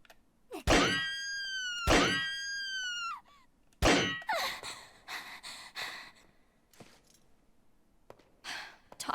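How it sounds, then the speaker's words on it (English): TMP submachine gun rounds striking the metal restraints holding Ashley in Resident Evil 4, a few loud ringing metallic clangs spaced apart, followed by thuds and a woman's gasps and sighs. "I've got to shoot the restraints around her without hitting her."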